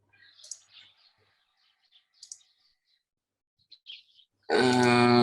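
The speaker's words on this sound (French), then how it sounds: "C'est très reposant, j'entends des oiseaux." A few faint bird chirps and tweets come through an open webinar microphone in otherwise near silence, scattered and distant, before a loud buzzing, harmonic-rich tone abruptly cuts in at the end.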